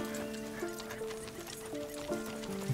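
Horse in Red Dead Redemption 2 neighing and whinnying with clip-clopping hooves, loud and close over a steady game soundscape, with faint talk at points.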